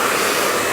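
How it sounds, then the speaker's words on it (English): Powerful hair dryer blowing steadily and loudly at close range while blow drying a bob haircut with a brush, a continuous broadband roar with no pauses. "keeping the nozzle of the dryer directed onto the hair as well"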